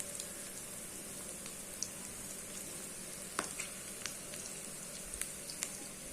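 Pakoda frying in oil produces a steady, fairly quiet sizzle, with scattered sharp pops and crackles rising over the hissing bed; no talk is heard.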